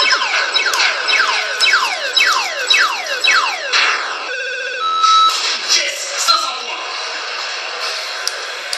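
A mobile phone plays a bright electronic ringtone, loud and close, with rapid repeating chirpy descending tones that shift into a steadier melodic pattern partway through.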